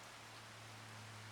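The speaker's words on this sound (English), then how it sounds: "the rain is coming down hard" Heavy rain pours down in the Farming Simulator 25 video game, a dense, even hiss over a low steady hum, brief and continuous with no voices.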